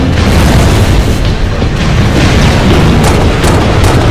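A grenade explosion in the video game Halo Reach, a loud sustained boom with a dense rumbling wash that fills the whole moment.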